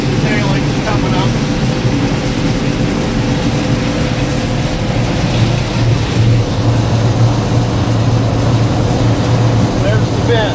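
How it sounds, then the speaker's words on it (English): A combine harvester runs while shelling corn, its engine giving a loud, constant drone with a steady whine and rumble throughout. "let you ride along with the combine"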